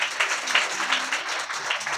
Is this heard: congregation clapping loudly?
yes